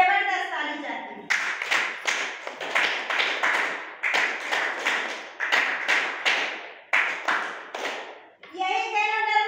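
Audience bursts into vigorous applause at a health product presentation, dense clapping in repeated waves, loud and close, with talk just before and after.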